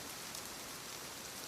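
Steady rain falls on a surface in a soft, unbroken patter, dense and even throughout with no voices or other sounds.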